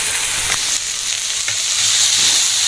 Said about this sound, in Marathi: हे वाटप केलेलं आपलं हिरवी मिरची, खोबरं, आलं, लसूण हे वाटप मी आता यात घालते